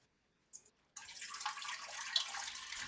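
Filtered water poured into a cooking pot, starting with a brief splash and then a steady, close running pour that grows slightly louder and continues to the end.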